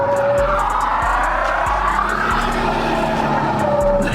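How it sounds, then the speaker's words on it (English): A VR30-swapped Nissan 370Z brakes hard while drifting at Z1 Motorsports, giving a loud, sustained tire screech with steady engine roar close by and no talk. "I'm gonna jam on the brakes hard"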